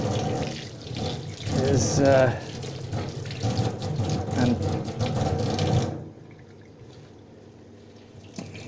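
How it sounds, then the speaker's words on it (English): A tap runs while hands are washed, splashing and gushing loudly for about six seconds before it is shut off. Someone talks over the water throughout. "washing your hands every now and again"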